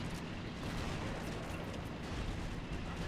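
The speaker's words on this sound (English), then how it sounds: "huge water explosion behind there" Mortar shell explosions in the Men of War battle game, heard as a dense, continuous barrage of booming blasts with no clear gaps between impacts.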